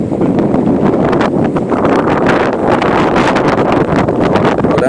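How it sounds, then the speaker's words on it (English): Strong wind buffets the microphone continuously, roaring and gusting in loud bursts throughout. "It's so windy."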